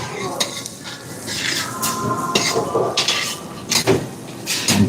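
Ginger and onion sauté in a home kitchen pan, giving a steady sizzle. Repeated clacks and scrapes of a utensil stirring against the pan sound close, with a faint voice in the background.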